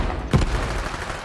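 A single loud gunshot-like burst rings out in Borderlands 3, a sharp blast followed by a decaying low rumble over steady game background noise.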